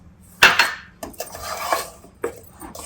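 Spoon scraping and clinking in a bowl while moong dal powder and sugar powder are mixed together for moong dal ladoo, several close metallic knocks and stirring scrapes.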